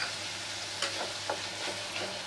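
Tomato paste sautéing in a hot pan, a dense continuous sizzle with a few soft stirring scrapes, close and fairly loud, no voices.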